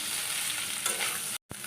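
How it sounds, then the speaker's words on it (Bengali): Paneer kofta balls fry lightly in oil, a close, continuous crackling sizzle with a short stirring scrape, cut off by a brief gap near the end, and no speech. "এগুলো আমি একটু ভেজে নিচ্ছি হালকা করে"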